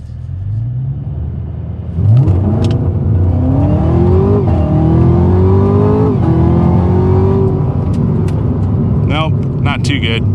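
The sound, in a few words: Camaro ZL1 1LE engine revving on a dyno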